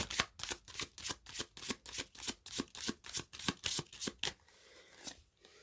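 Tarot cards shuffled by hand in a steady run of about a dozen quick, crisp riffling strokes, close and clear, ending in a brief quiet pause.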